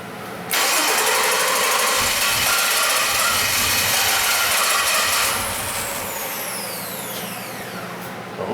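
A Jeep Liberty with a crank-no-start fault cranks steadily and loudly for about five seconds, the rhythmic starter churn then easing into a lower, fading whir as it fails to catch.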